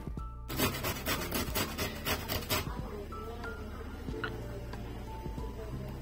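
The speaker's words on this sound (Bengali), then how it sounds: "সেই জন্য গ্রেট করে নিচ্ছি।" Raw beetroot is rubbed over a kitchen grater, starting with a quick run of loud, rhythmic rasping strokes that then give way to quieter, scattered scraping.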